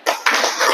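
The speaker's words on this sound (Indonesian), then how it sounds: "tepuk tangannya" An audience claps its hands in a short, dense burst, loud and close, with no voices over it.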